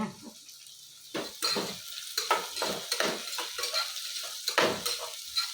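Sizzling oil crackles steadily as a tempering of spices fries, while a utensil stirs and scrapes a pan in repeated bursts, close and fairly loud, with no voices.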